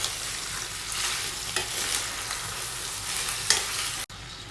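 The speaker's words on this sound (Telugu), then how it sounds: "కాకరకాయ యాడ్ చేసిన తర్వాత ఇవన్నీ కూడా మరొకసారి అంతా బాగా కలిసేటట్టు మిక్స్ చేసుకోవాలండి" Bitter gourd stir-fried and mixed in a tempering, a continuous sizzle with periodic spatula scrapes through the pan, then a sudden cut to quieter sizzling at the end.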